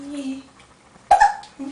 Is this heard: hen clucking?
no